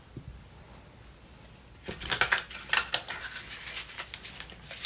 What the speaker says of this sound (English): Okay, that wasn't the best shuffle,